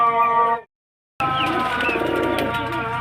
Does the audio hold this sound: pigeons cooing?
yes